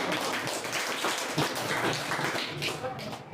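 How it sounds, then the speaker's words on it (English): A classroom breaks into applause for a student: dense, steady clapping from many hands, fairly close, with some voices mixed in underneath. "We should clap for him."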